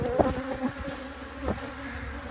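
Honeybees just released from packages swarm around a hive in an apiary, a close, steady buzzing drone with a few louder passes as individual bees fly near.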